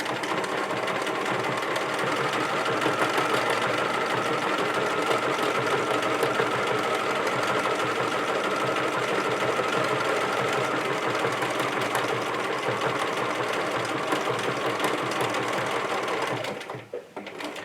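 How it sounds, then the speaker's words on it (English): A sewing machine runs continuously for about sixteen seconds, loud and close, as it stitches a decorative floral pattern onto a fabric band for a small wallet or wristlet, then stops abruptly. "I'm going to use a decorative stitch. I'm going to go with the floral that almost matches the design on my fabric."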